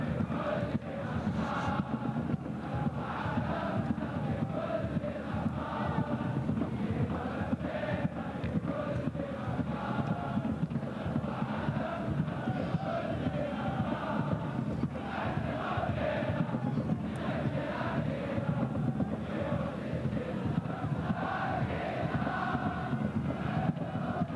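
Stadium football crowd at an AFC Champions League group match in Riyadh, a constant, distant roar of many voices with swelling chants across the whole stretch.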